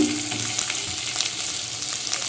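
Onions browned in a pan sizzle steadily as tomato paste goes in, a dense continuous frying hiss with faint scraping, close and even throughout with no talk.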